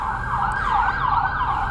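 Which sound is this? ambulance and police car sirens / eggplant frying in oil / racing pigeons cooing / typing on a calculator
ambulance and police car sirens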